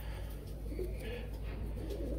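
A purebred Rajan-line pigeon coos softly and close by in low, murmuring notes over a faint background hum.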